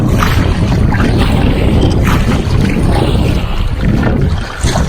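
A kayak moves across choppy water on Lake Texoma, with constant loud splashing, sloshing and wind-buffeted rushing close to the boat and no talk.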